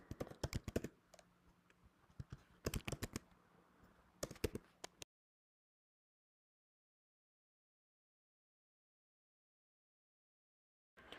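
Rapid clicking keystrokes on a computer keyboard as code is typed, bursts of quick taps for about five seconds, then silence, with a brief tap at the very end.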